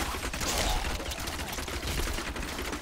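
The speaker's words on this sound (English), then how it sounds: "the rapid fire in this is great" Rapid, continuous gunfire in the video game Diablo 3: Reaper of Souls on a hardcore run: a dense, unbroken stream of shots that stays loud and steady from start to finish.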